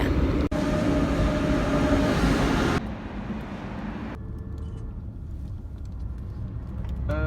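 Loud, steady rumble of a train rolling through a station, a brief clunk early on, then the roar drops to a lower, quieter hum.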